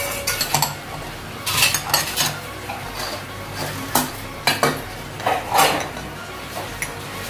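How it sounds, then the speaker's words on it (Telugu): Punugulu batter made of rice, green chillies and cumin is stirred in a bowl, giving irregular close wet scrapes and clinks of a spoon against the vessel, with no voices. "రుచికి తగినంత సాల్ట్ వేసుకుందాం చక్కగా మనం ఇలా కలుపుకున్నాం అండి"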